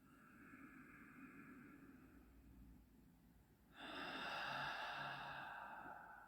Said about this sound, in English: breathing deeply in